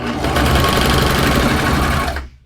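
A sewing machine stitches a sleeve into stretch fabric in a single loud, steady burst of rapid needle chatter lasting about two seconds before it stops abruptly, heard close up with no talking.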